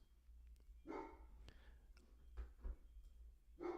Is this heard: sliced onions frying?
no